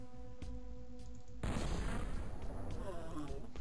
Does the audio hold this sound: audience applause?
no